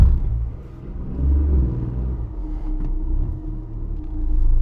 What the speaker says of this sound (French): à froid, le petit 3 cylindres, il a tendance à caler